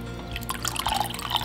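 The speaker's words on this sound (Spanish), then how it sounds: "vamos a echarle el agua a la levadura para que la levadura empiece a activarse" Water poured onto fresh yeast for marraqueta bread dough, faint trickling and dripping splashes scattered over about a second and a half, close and quiet with no talk.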